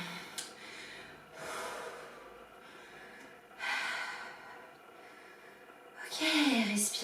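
Deep breathing during a guided dance exercise, three slow audible inhales and exhales spaced apart over quiet room tone.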